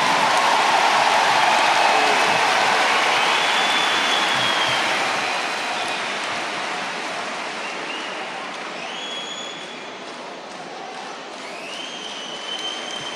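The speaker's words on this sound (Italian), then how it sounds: "È giusto questo applauso" Steady applause from a large audience at a public meeting, a dense, even patter that holds strong at first and then eases slightly toward the end, with a few faint tonal whistles over it.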